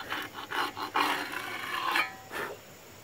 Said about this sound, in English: I have a ceramic disc for my angle grinder